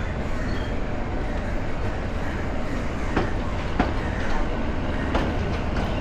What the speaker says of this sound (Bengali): ট্রেন বাঁক নিয়ে এগিয়ে যাচ্ছে